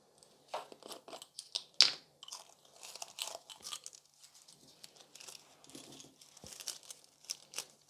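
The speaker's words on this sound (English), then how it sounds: "So gold transfer foil." Thin gold transfer foil for nail art crinkles and crackles in close handling, a run of small dry crunchy rustles and sharp crisp bursts with brief pauses, no voices.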